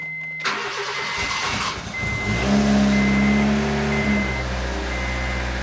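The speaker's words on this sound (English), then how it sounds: "Let's cold start." Honda D16 engine cold-starts after a transmission swap: a brief starter crank catches, then the engine settles into a loud, steady high idle, heard up close with no talking.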